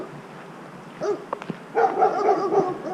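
A big dog barks nearby, a few sharp single woofs followed by a rapid string of harsher barks, loud and close, with no one talking.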